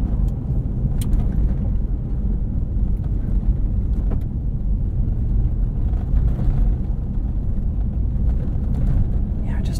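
A Toyota 4Runner on OEM-pressure Firestone Destination XT tires drives over a washboard dirt road, giving a steady, loud low rumble with constant road-surface chatter throughout and no pauses.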